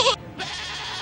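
A goat gives a short, loud, close bleat, a wavering nasal cry that ends quickly and gives way to a steady hiss of background noise.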